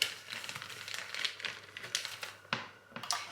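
Cheese is sliced with a knife on a board, close and quiet, with a series of crisp cutting strokes and crinkly wrapper sounds, plus a sharper chop near the end.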